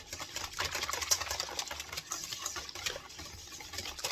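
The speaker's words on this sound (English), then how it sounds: "I'm going to whisk that a little more and let it get thick and creamy" A whisk beats a lemon cream dessert mixture made with lemon zest in a bowl, giving a quiet, fast, continuous rhythmic scraping and tapping close by.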